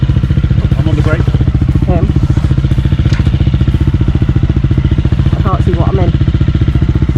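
Motorcycle idling with a rapid, even thumping pulse while it is rolled back, loud and close, with people talking over the engine.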